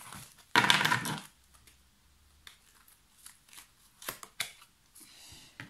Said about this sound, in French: je vais vous tirer quelques cartes conseils